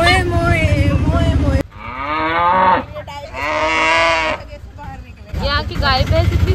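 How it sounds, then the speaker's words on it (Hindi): Cows and buffaloes on a crowded street in Jaisalmer give several loud, drawn-out moos close by, one after another, with people talking around them at the start and end. "यहाँ की गाय भैंस इतनी ज्यादा है कि यहाँ गाड़ी भी जाना मुश्किल है"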